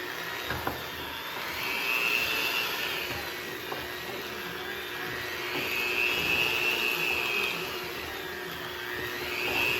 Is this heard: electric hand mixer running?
yes